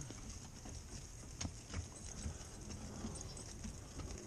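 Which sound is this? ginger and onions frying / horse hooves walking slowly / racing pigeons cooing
horse hooves walking slowly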